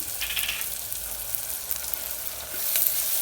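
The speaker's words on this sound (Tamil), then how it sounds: "இப்போ நம்ம வெங்காயம் பச்சை மிளகா ரெண்டோட இஞ்சி பூண்டு பேஸ்ட்டையும் போட்டுடலாம் போட்டு நல்லா வதக்கிடலாம்" Onion, green chilli and ginger garlic paste sautéing in hot oil for a green chilli mutton curry, a steady close sizzle with soft stirring scrapes, swelling louder near the end, no voices.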